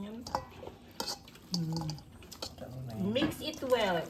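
Warek warek, a grilled pork dish, is mixed with vinegar in a bowl: irregular clinks and scrapes of a utensil against the dish with wet, sloshing sounds, while people talk over it.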